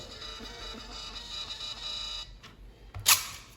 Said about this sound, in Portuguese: E a impressora efetua a impressão.